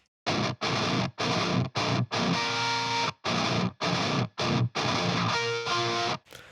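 Chunky, heavily distorted electric guitar chugs in short palm-muted bursts with brief gaps, a thin, scooped tone playing alone.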